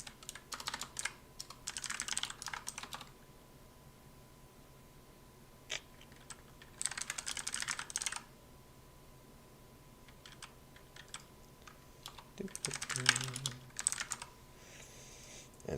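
Code typed on a computer keyboard: bursts of rapid, faint keystrokes come in several runs separated by short quiet pauses.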